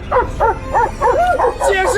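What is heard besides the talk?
dog barking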